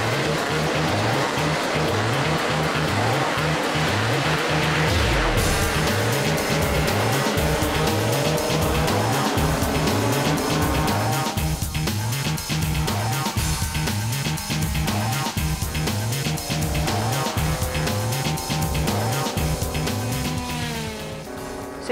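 Racing scooters roar at the start of a race, a dense pack of high-revving engines droning loudly and steadily, with pitch rising and falling as the bikes accelerate away.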